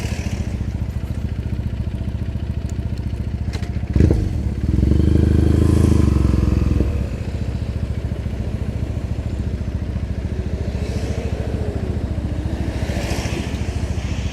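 A motorcycle rides through Tokyo streets with a steady engine drone and road rumble throughout, swelling for a few seconds into a louder, rougher roar before easing back to the constant hum.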